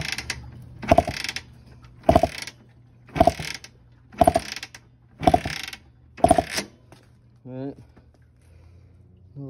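A 1982 Honda 250R ATC engine with its carburetor removed is kicked over repeatedly, six evenly spaced ratcheting kick strokes, close and loud, followed by a short voice.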